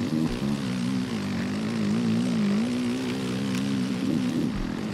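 A dirt bike engine in the video game MX vs ATV Legends drones steadily with a buzzing, wavering hum, held at a constant loud level without speech.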